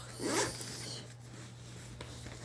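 A zipper is pulled open on a bag of nightwear, one close, quick rasping pull followed by quieter rubbing and handling noises.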